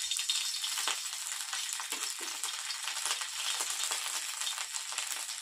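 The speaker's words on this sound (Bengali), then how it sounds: "তেল গরম হয়ে গিয়েছে, এবার আমি প্রথমে আদা বাটাটা দেবো।" Ginger paste frying in hot oil, a steady broadband sizzle with faint stirring rattles, close and continuous, no voices.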